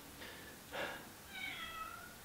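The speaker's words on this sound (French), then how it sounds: "Tu m'as fait chier pendant ma vidéo, tu miaules maintenant." A pet cat meows three times, two short calls and then a longer drawn-out one, close by in a quiet room with no one talking.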